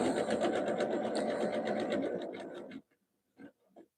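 A sewing machine stitching jelly roll rug fabric runs in a fast, close mechanical whir for almost three seconds, then stops, leaving a couple of brief quiet clicks and handling sounds.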